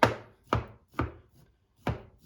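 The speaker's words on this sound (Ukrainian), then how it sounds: "Тепер я роблю в ньому ось такі дірочки по всьому периметру" Raw pork being pierced with holes for marinating: five sharp, distinct stabbing knocks against a board, fairly close and evenly spaced, with brief silence between each.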